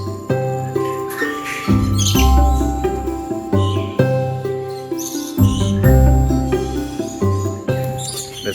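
Exotic birds at a bird park in Malaysia squawk and chirp loudly and continuously at close range, shrill calls overlapping over a steady tonal background.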